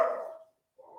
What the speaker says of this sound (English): There's a dog going past, I think.